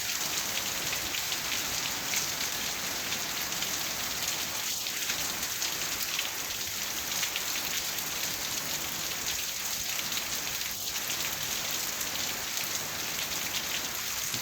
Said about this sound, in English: Lot of rain, lot of rain. Coming on and off, but it's coming very heavily.